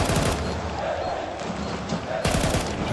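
Rapid automatic gunfire from the video game Counter-Strike 2 during an esports match, dense continuous bursts filling the whole stretch, loud and close, with a caster's voice faintly underneath.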